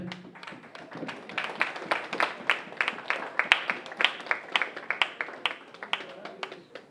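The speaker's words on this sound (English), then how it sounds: "I want you to give her a round of applause" A small group at a family gathering claps in thanks, a brisk run of distinct, fairly close hand claps in a loose rhythm, moderately quiet.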